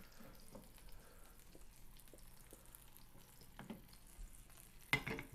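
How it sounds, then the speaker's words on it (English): Italian sausage patty frying in a pan on a stovetop burner, a faint, steady sizzle with scattered small pops and a brief louder crackle near the end. "So, I'm frying a little patty just to make sure it's good"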